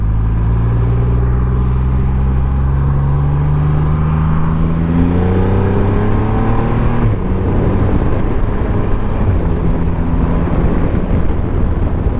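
A 2020 Triumph Rocket 3 GT motorcycle engine under way, loud and close, with the engine note rising through the revs, a gear change midway and then climbing again, all under heavy wind rush.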